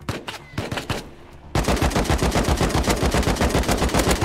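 Automatic rifle fire in a survival shooter video game: a few scattered shots, then a sustained, loud rapid burst of evenly spaced rounds that continues steadily to the end.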